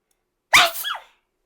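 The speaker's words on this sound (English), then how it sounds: "Oh, I feel like I'm going to sneeze." A single sharp sneeze bursts out of silence, close and loud, trailing off into a short breathy tail.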